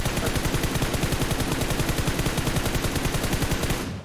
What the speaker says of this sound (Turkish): Çok temiz mermi pıt pıt pıt pıt pıt diye gidiyor.